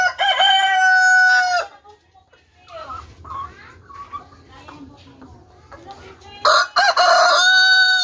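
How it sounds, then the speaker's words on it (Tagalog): Roosters crow loudly at the start and end, with hens clucking and rustling softly in between and a person speaking faintly nearby. "Tapos ito yung aking mga manok."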